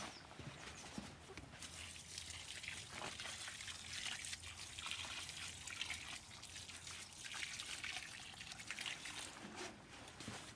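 Water trickles and splashes steadily onto newly planted garden plants in winter, a continuous close pour with soft dripping throughout and no talking.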